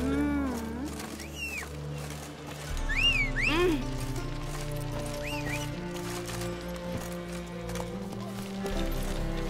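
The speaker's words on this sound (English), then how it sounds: "Run, Roach." A horse named Roach gallops in The Witcher 3 with a steady clip-clop of hooves under game music, joined by a brief whinny near the start.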